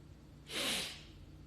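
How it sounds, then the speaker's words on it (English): A single sharp sneeze, close and fairly loud, bursting out briefly against a quiet background. "I'm going to sneeze again."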